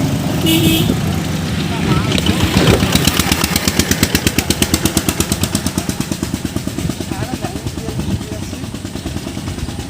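A small motorized water pump engine chugs steadily close by, its rapid, even pulses settling into a regular putter after a few seconds of mixed noise.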